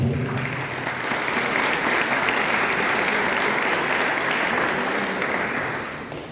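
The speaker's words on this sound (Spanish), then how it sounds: "Con este aplauso recibimos a Mariano." Audience applause welcoming a speaker at a church presentation of an encyclical, dense sustained clapping from a crowd lasting several seconds before fading at the end.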